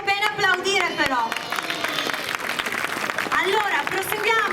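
An outdoor audience at a seaside bikini beauty pageant in Caorle, Venice, claps and applauds steadily, fairly distant, with crowd voices and cheers mixed in.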